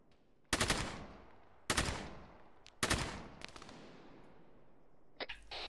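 Gunfire in ARMA 3: three loud, sharp shots spaced about a second apart, each trailing off in a long echoing decay, followed by a burst of quicker, fainter cracks near the end.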